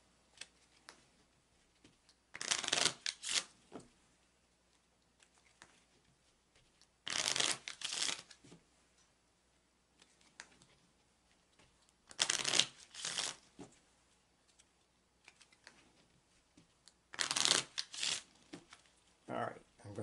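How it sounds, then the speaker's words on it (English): Tarot cards being shuffled by hand in a series of four separate crisp riffling bursts spaced several seconds apart, close and fairly faint, with quiet gaps between them. "let's shuffle the cards one more time"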